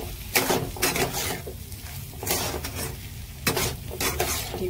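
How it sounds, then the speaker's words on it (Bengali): Egg poured into a hot pan for a potato and egg curry, frying with a steady sizzle while a utensil stirs and scrapes, giving repeated clattering bursts close by. "ডিমটাকে ঢেলে দিয়ে ভালো করে রাখতে হবে"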